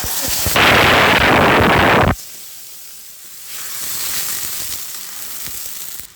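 Onion and green chilies dropped into hot oil with cumin seeds and a small torn bay leaf, a loud roaring sizzle that cuts off abruptly, then a quieter steady frying hiss.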